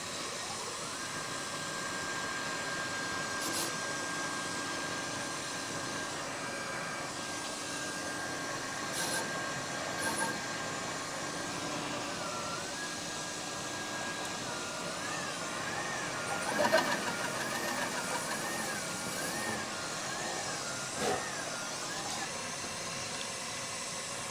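A machine cuts a valve guide on a cylinder head, giving a steady, moderately loud whirring drone with faint shifting tones and a few brief scraping bursts throughout.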